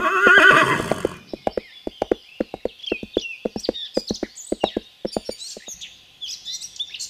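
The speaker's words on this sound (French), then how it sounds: "Le cheval apparut soudainement," A horse neighs loudly, then its hooves clip-clop in a steady galloping rhythm as it emerges from a forest, with birds chirping faintly in the background.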